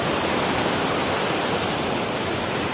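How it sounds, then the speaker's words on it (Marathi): Small waterfalls pouring into the flooded Pinjal river, the forceful water a dense, loud, continuous rushing roar that fills the scene without pause. "तिकडनं छोटे छोटे जे धबधबे येतात आणि पाण्याचा फोर्शन बघा किती जोराचा आहे"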